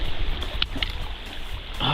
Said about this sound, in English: And that's where the water goes over the falls.